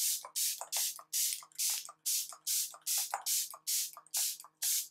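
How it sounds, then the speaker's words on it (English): Fix Plus setting spray misted onto a face, a rapid series of about eleven short hissing bursts in a steady rhythm, close and fairly loud. "I'm just going to spray my whole face"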